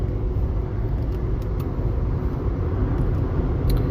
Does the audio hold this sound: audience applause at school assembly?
no